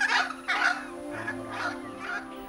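A wild hyacinth macaw, a huge parrot, gives a run of loud, harsh, penetrating squawks, five or so in steady succession, close and clear with no talk over them.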